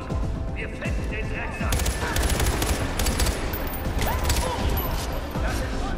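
Gunfire in Far Cry 4 on PS4: dense, loud bursts of rapid shots crackling one after another, with a voice talking over the shooting.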